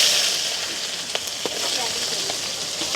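Onions frying in hot oil with fennel seeds and mustard seeds give a steady, close hiss of sizzling with a few faint pops and crackles, continuous throughout.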